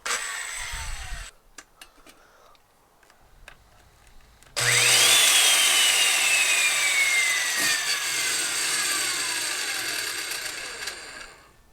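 A power saw set to about half-inch depth cuts into rotten wood on a Glastron-Carlson boat, first a brief burst and short pause, then a loud, sustained whining cut close by.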